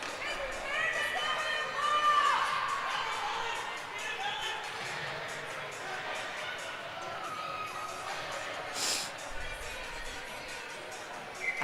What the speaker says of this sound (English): Lot of noise here in the crowd.